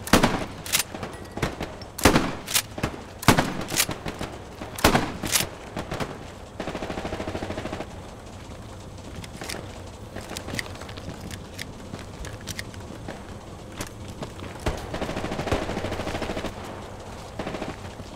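Gunfire crackles in the World War II shooter Hell Let Loose: sharp, loud bursts of rifle and machine-gun shots, dense at first and then more scattered, with footsteps and distant shooting between them.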